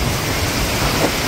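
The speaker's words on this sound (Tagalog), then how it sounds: "Ang lakas talaga ng ulan." Heavy rain pours in a loud, dense, continuous hiss, a broad wash of noise that stays steady and close from start to finish with no voices over it.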